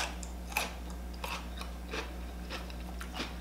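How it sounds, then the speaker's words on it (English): Fresh little cucumbers bitten and chewed up close, a series of crisp wet crunches at irregular intervals over a low steady hum, no talking. "Can y'all hear that crunch?"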